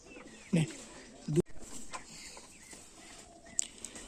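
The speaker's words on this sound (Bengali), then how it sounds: "আরও নেক্সট কিছু পায়রা আছে সেগুলো দেখাচ্ছি।" Pigeons kept at a home coo in two low, soft bursts early on, then fainter bird sounds and light knocks follow over a quiet background.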